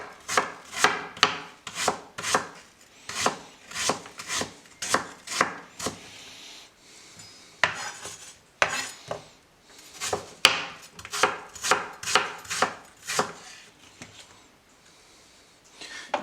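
Knife chopping through apples on a wooden cutting board for an American apple pie, sharp repeated thuds in quick bursts with short pauses, close and clear.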